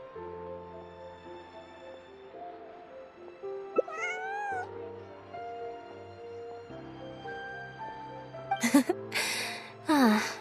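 A cute cat in the video game Genshin Impact lets out a few short meows over a soft, continuous musical backdrop, with a final pair of louder, brighter mews near the end.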